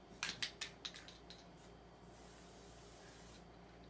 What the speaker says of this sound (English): Again, spraying over that little midsection.